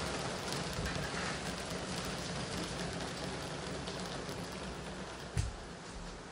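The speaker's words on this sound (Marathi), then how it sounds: "आज पाऊस बघा किती पडतोय भरपूर सकाळपासून" Heavy monsoon rain pours steadily outside a home gallery in Maharashtra, a constant soft hiss heard from a distance at low volume with one brief thump near the end and no one talking.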